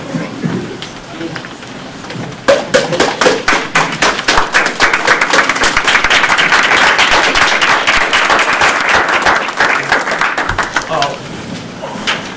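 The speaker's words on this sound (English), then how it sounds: "I would like for them to stand up and hopefully give them applause" Audience at a school district board business meeting breaks into applause for standing committee members, dense clapping building after a couple of seconds and sustained loudly before tapering off, with some talk at the start.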